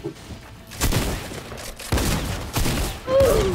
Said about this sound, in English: I can't hit a shotgun shot to save my life